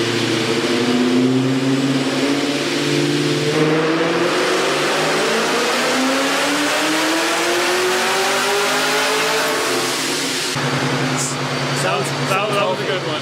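A car engine on a dyno roars at high revs, climbing steadily in pitch under load, tires spinning on the rollers, then cutting off abruptly; loud and close, with a voice briefly audible.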